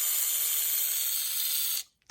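Polished gears in an RC car with a new 4100kv motor whir and grind in a steady high-pitched buzz for nearly two seconds, then stop abruptly, heard close with no talking.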